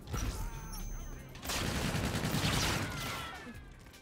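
Light machine gun fire in Infinite Warfare multiplayer: sustained, loud automatic bursts mixed with other gunfire and game effects, with a faint voice and electronic tones underneath.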